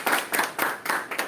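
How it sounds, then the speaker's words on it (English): Several quick bursts of clapping come from the audience at a Toastmasters club meeting, close and fairly loud in an uneven rhythm. "Let's have a huge round of applause for"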